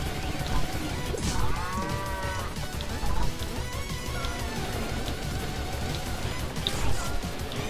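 Cows moo in the Pizza Tower video game, with several long, wavering lowing calls over a dense, noisy game soundtrack. They sit close and moderately loud, and nobody talks over them.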